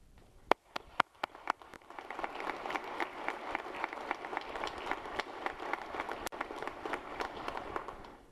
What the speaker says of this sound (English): Please give your families a round of applause,